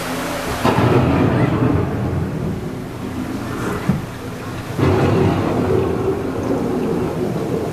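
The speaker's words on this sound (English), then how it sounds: "The approaching storm may seem violent and destructive to us" Loud, rolling thunder rumbles through a steady downpour of rain during a thunderstorm, with the deep booms swelling and fading in two long waves close by.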